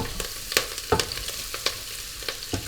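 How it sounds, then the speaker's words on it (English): Vegetables frying in olive oil in a pan for lasagna, a steady close sizzle broken by sharp scraping clicks and knocks of stirring every half second or so, with no voices. "A bit more olive oil, just to fry off those veggies."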